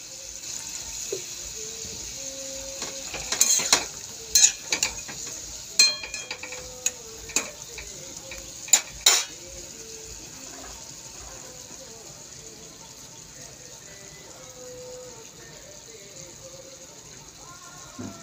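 Soybeans simmer in a pan with a splash of water, giving a soft steady bubbling hiss broken by a run of sharp clicks and scrapes from stirring in the middle, then settling back to quiet bubbling.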